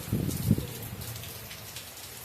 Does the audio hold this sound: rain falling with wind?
yes